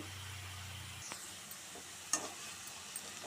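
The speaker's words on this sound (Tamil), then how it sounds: "இது நல்லா கிளறி விடணும் நல்லா ஃப்ரை ஆகிட்டு இருக்கு" Bitter gourd frying Kerala style in a pan gives a low, steady sizzle with a few scraping stirs and clinks, close and fairly quiet, with no talking.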